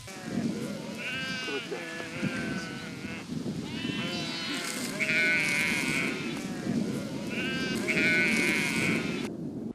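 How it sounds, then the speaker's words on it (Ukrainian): Coarse-wool Romanov sheep on a farm bleat repeatedly, several overlapping calls rising and falling close by, with a steady background murmur beneath them. "мають овець традиційної грубошерстної романівської породи та виводять м'ясну породу з тонким руном."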